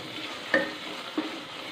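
Green chillies cook in masala for aloo gobi in a pan, a soft low sizzle broken by two brief stirring scrapes.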